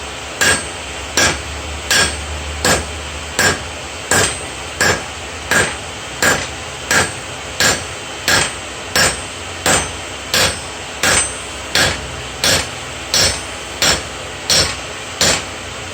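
Steady, evenly spaced hammer blows ring out on hot steel as a seax blade is forged at an angle to draw out the edge bevel, about twenty loud metallic strikes with no talking.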